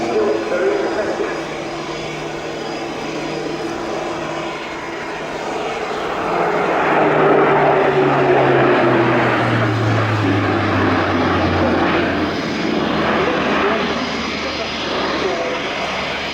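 A German Air Force Airbus A400M propeller transport flies a display at the Royal International Air Tattoo, its loud turboprop drone swelling and falling in pitch as it passes, with commentary underneath.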